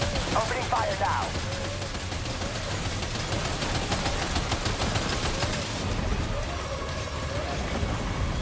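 Dense, sustained gunfire in the video game Death Stranding 2, continuous bursts layered under game effects and faint voices throughout.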